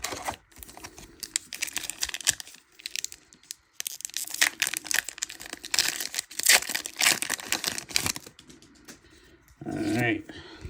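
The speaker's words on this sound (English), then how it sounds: "I brought home one sealed case to rip." Crinkly foil tearing and rustling as sealed Lorcana Rise of the Floodborn card packs are ripped open, in busy, close bursts with short pauses, with a person talking over parts of it.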